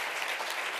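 Audience applause at the closing session of the Bibliosalud 2019 conference, a dense, steady wash of many hands clapping together, fairly close and even throughout.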